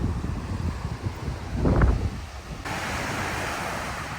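Stiff east-northeast wind gusting over surf at Long Bay on Tortola, a steady roar of wind noise against the microphone with waves washing beneath, a brief louder gust midway.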